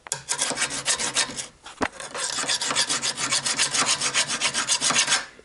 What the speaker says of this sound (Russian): Обрабатываю обязательно напильником